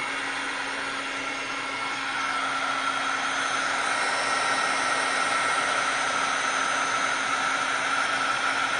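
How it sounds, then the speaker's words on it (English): A handheld heat embossing tool blows hot air while embossing powder is heated on a Christmas card, giving a steady, fairly loud whooshing fan noise with a constant hum that holds unbroken for the whole stretch. "this is the tool that you use to do embossing"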